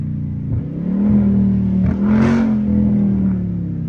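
A 392 Scat Pack car with a swapped-in Hellcat engine idles with a deep, steady rumble, its exhaust swelling briefly as it revs and then settling back, heard up close.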